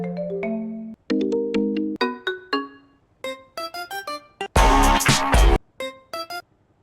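A run of phone ringtone previews from a FiveM phone mod in a video game, each a short melodic chime or tone pattern, played one after another clearly and loudly, with one brief burst of a brighter, denser tune.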